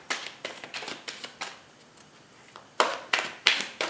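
Tarot cards being shuffled by hand: a series of crisp riffling bursts, each a short papery flutter, with a quieter stretch in the middle before several louder, closer shuffles.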